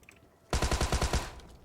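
A Thompson submachine gun fires in a video game, a single close, loud burst of about eight rapid, evenly spaced shots after a quiet moment, then the sound drops back to faint background.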